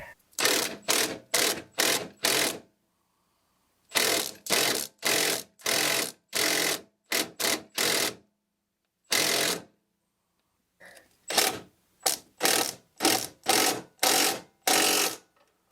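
A ratchet snugs up a bolt on a leaning zero turn mower, giving close, loud runs of rapid clicking in several separate bursts with short silent pauses between them.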